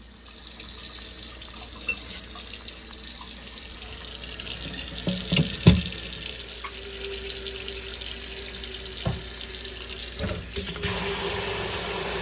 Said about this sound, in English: I'm going to start by filling up my sink with some Dawn dish soap, some warm water.